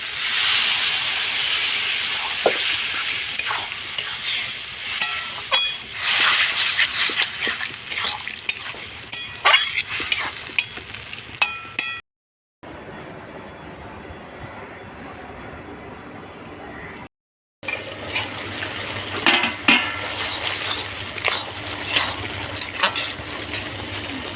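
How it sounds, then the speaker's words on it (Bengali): Sautéed taro stolon vegetables in a village kitchen sizzle and hiss loudly as water hits the hot pan, with clattering stirring throughout and a brief quieter steamy stretch midway. "সবজি কষানো হয়ে গিয়েছে এখন একটু জল দিয়ে দিই"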